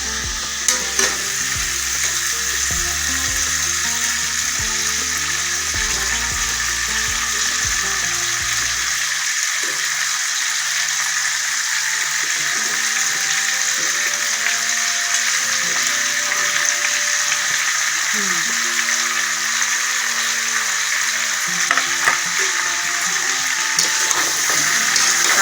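Vegetables dropped into a pot of hot spiced oil for sambar set off a loud, steady frying hiss that goes on throughout, with stirring clatter under it early and a faint rumble that fades after the first few seconds.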